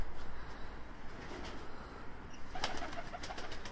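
A Miro Altuni pigeon coos softly at close range over a steady low background hum, its brief throaty notes gathering toward the end.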